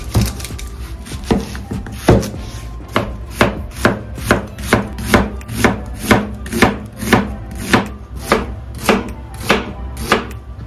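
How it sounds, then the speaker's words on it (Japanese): A knife thinly slicing a peeled onion on a cutting board, about twenty sharp, evenly spaced chops in a steady rhythm, close and loud with nothing else heard. "玉ねぎは皮を剥いて薄くスライスしていきます"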